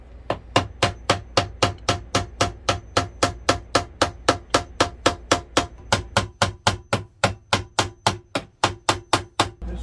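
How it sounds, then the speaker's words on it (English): Steady, rapid hammer blows ring out in a bathroom during replacement of a Dometic toilet and its flange, about three to four strikes per second for the whole stretch, close and sharp with no talking. "I hear drilling and hammering in the bathroom."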